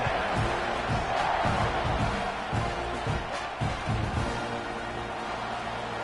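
A football stadium crowd cheers at a Colorado vs Texas A&M game, a steady roar with rhythmic low thumping pulses running throughout, fairly loud and unbroken.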